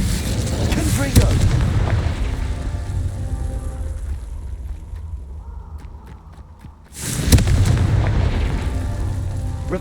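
Booming fire-spell explosions from the Confringo curse in the video game Hogwarts Legacy, played on Xbox Series X, with dense loud blasts at the start and again after a brief quieter lull.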